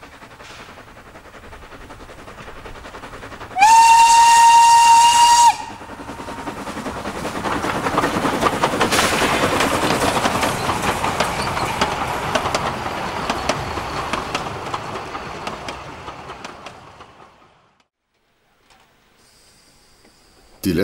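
Narrow-gauge steam train running on a rail line, with a long rumbling roll of wagons and a sharp whistle blast near the start, the train noise then fading out into near silence.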